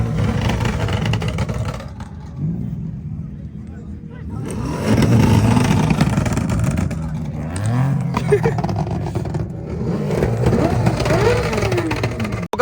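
A car engine at a Revfest rev festival revs up in several rising surges, close and loud, with people talking over and between the bursts.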